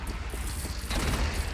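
A cannon fires in Horizon Zero Dawn, a dull low boom swelling midway through a steady rumbling game soundscape.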